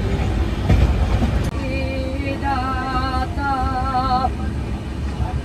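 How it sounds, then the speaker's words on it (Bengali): A passenger train runs fast at about 115 to 117 km/h, giving a loud, steady rolling rumble with rail clatter and brief tonal horn-like notes partway through. "ট্রেন তখন দৌড়ে চলেছে 115 থেকে 117 কিলোমিটার পার আওয়ার বেগে।"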